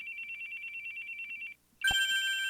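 A cell phone rings inside a courtroom in the video game Ace Attorney: a steady, pulsing electronic ringtone that stops for a moment, then a sharp click and a bright, layered chime tone. No one speaks.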